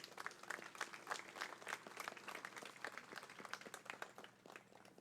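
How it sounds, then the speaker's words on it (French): An audience at an Armistice commemoration ceremony applauds schoolchildren, with scattered individual claps forming a light, continuous patter that stays fairly faint and thins out toward the end. "Donc vraiment, applaudissez-les, ils le méritent."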